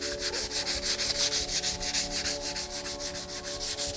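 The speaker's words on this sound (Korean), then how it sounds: "220번 사포로 전체적으로 쭉 다시 사포질을 해주시면" Fine 220-grit sandpaper rubs back and forth across a wooden cutting board in quick, regular strokes, a close, rhythmic scratchy hiss with no voices.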